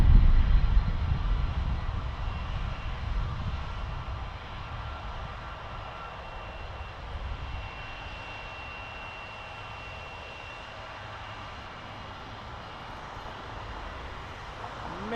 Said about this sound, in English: Jazz 749 to Charlotte, Embraer